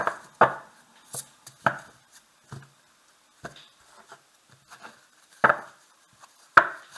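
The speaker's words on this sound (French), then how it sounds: "On va remuer un peu plus les cartes si vous voulez." Tarot cards being cut and shuffled on a table, a sparse series of crisp, separate slaps and taps, close and otherwise quiet.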